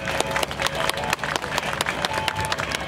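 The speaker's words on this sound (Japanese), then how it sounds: "拍手お願いします。" Audience at a stage event at a military garrison anniversary ceremony claps in a steady, fairly loud burst of applause, with crowd murmur and a few voices mixed in.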